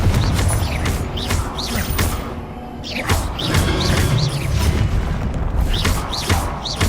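Confringo blasting spell explosions during Hogwarts Legacy gameplay on PS5, with loud booming blasts and whooshes layered over continuous dense battle noise, several impacts spread across the stretch.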